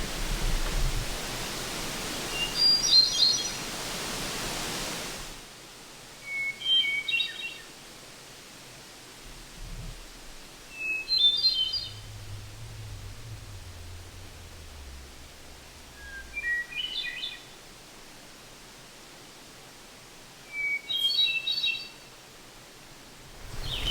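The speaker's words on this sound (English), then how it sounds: "I think that's a kind of wood thrush, not a robin, not an American robin, but another kind of wood thrush" A wood thrush sings in a fern-filled canyon on a morning hike at Mikisew, its short, bright, fluting phrases coming every few seconds at moderate distance over a steady wash of rushing water.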